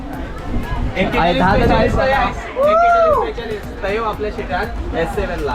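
A packed crowd at Dadar railway station makes a loud, close hubbub of many overlapping voices and chatter, continuous and dense, with one nearby voice rising above the babble.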